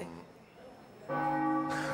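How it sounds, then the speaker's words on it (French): A bell rings after being bumped, a bright sustained tone sounding near the end, following a quieter stretch and a briefer ring at the start. "Je me suis cogné dans la cloche."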